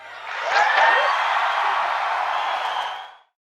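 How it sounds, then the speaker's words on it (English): A crowd of teachers in Lubbock answers a show-of-applause vote with loud, sustained clapping mixed with cheers, holding steady before cutting off sharply near the end. "By show of applause."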